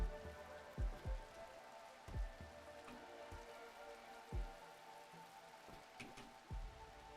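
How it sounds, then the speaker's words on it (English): Rain falling in the video game Rimworld, a soft steady patter of drops on a surface, faint and continuous, with a few low thumps spaced irregularly through it and no voices. "The rain will wash away a lot of the detritus that is here."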